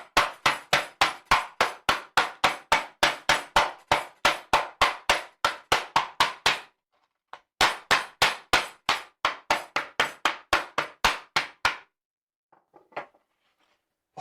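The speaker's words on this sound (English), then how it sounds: "you want about 12 ounces of crushed ice. And how you crush it is up to you. I've got a mallet." About twelve ounces of ice crushed with a mallet for a cocktail: rapid, evenly spaced sharp whacks, loud and close, pausing briefly midway, resuming, then stopping with a few faint clinks at the end.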